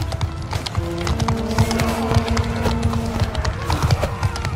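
A mass of cavalry horses galloping across a Bannerlord medieval battlefield, dense overlapping hoofbeats drumming steadily and loudly throughout, with faint battle noise mixed in.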